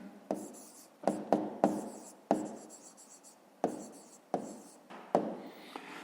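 Pen scratching across paper as a math answer is written out by hand, in short close strokes and bursts with small pauses between them, quiet and without talk.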